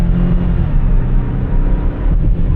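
A vehicle engine pushed under heavy throttle on a slippery road, a loud, close, low rumbling drone that holds steady throughout the short burst.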